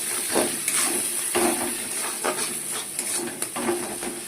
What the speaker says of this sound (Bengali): এবার সব দিয়ে একটু ভালো করে কষাবো।